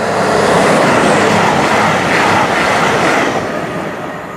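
A train rumbles past loudly and close through Sileby railway station, a continuous roar of wheels on track that fades slightly toward the end.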